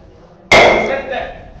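A single sharp wooden gavel strike at an art auction, with a sudden crack followed by a brief ringing decay in an otherwise quiet room.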